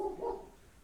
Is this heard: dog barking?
yes